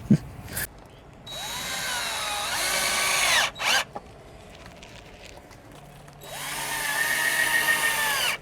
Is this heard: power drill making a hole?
yes